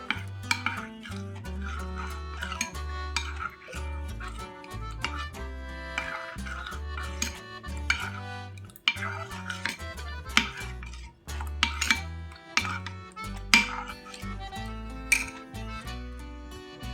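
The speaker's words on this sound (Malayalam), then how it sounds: "കട്ടകളില്ലാതെ നന്നായിട്ട് ഇളക്കി യോജിപ്പിക്കാം" Milk and cornflour whisked in a bowl with a utensil, a continuous close run of rhythmic clinking and scraping against the bowl, fairly loud and steady throughout, with no talking.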